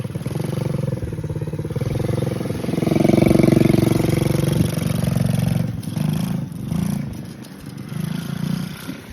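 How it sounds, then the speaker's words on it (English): A dirt bike engine runs nearby outdoors, a steady buzzing drone that swells as it revs up in the middle and then settles and dips, loud and continuous throughout. "My big boy's on his dirt bike."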